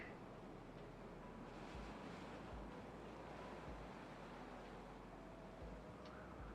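Water flows in the Timberborn game as a steady, rushing wash, like surf, with a low rumbling undertone that pulses now and then, constant and moderately loud throughout, with no speech.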